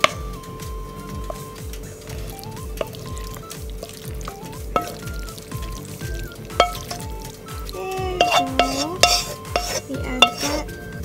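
Seafood being sautéed and stirred in a pan for pasta, with steady low sizzling under repeated scraping and clinking of a utensil against the pan, growing busier and louder toward the end; no talking.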